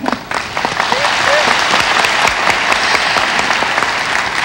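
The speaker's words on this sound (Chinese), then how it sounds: "有掌声了" Loud, sustained audience applause at the 21st Golden Bell Awards ceremony, dense clapping from a large crowd filling the hall steadily throughout with no break.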